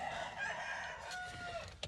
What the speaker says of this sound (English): and that rooster is loud.